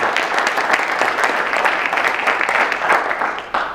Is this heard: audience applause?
yes